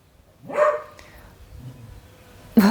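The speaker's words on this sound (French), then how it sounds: "mon chien aboie après, hein, une bête, Sadji" A dog barks once nearby, followed by a softer whimpering sound, then a sharp bark or yip at the very end, in a quiet room.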